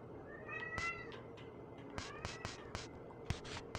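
A pet cat meows several times nearby, with rising and falling cries, followed by sharp clicks and taps in a quiet room.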